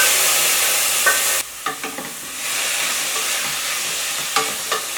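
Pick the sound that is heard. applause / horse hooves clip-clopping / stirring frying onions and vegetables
stirring frying onions and vegetables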